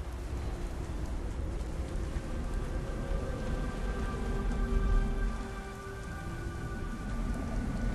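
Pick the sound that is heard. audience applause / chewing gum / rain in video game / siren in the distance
rain in video game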